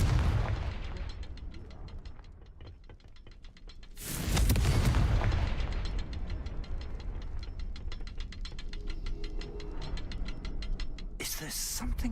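A Confringo explosion spell goes off in the video game Hogwarts Legacy: a loud, heavy blast with a booming rumble, set against a soft, steady ticking, and then a second sharp burst near the end.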